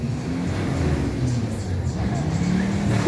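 Straight-six car engine revving at a Fourth of July car show in Fillmore, a steady loud rumbling drone that runs through the whole stretch, with crowd noise and voices in the background.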